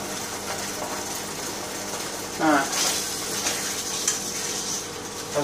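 Beans cooking in a pan at home for dinner, a steady soft sizzle with a brief louder scrape of stirring midway, close and alone without talk.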